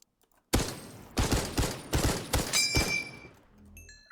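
Video game gunfire in a rapid burst of loud, sharp shots, about six or seven heavy bangs spaced unevenly over a few seconds, then ringing tails fading out after the last shot.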